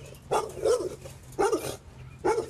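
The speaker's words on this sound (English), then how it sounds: "He good dog, good dog." A dog barks three times, close and fairly loud, the sharp barks spaced evenly with short quiet gaps between them.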